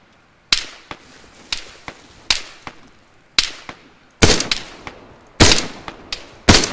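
Gunfire in Arma 3 cracks out as a dozen or so sharp, close single shots at uneven intervals, some spaced apart and others in quick pairs, each followed by a short ringing tail, with no voices over them.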